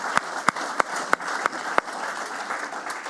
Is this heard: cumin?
no